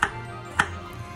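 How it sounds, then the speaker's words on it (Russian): Garlic is chopped with a knife for cabbage soup, with two crisp, close knife taps about half a second apart. "Нарезаю чеснок"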